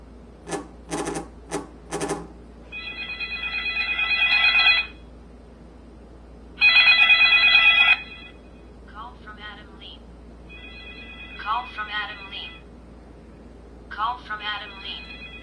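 A Windows Phone Mango smartphone rings for an incoming call with a hands-free caller ID feature: bursts of electronic ringtone tones come in repeated phrases with short pauses between them, clear and close.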